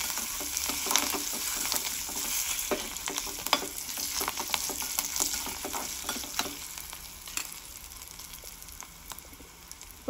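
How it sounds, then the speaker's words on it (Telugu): Asafoetida and turmeric sizzle steadily in hot oil for a tempering, with crackling pops and occasional scraping as the mixture is stirred, loud and close, with no voices. "తాలింపు అయితే స్మెల్ అదిరిపోతుంది, ఇంగువ వేసేసరికి ఇంకా బాగుంటుంది స్మెల్."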